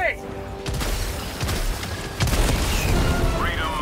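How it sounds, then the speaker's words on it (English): Grenade blasts in the video game Helldivers 2, heard as several loud booming bursts over a dense, continuous battle din. "Throw a grenade at those eggs."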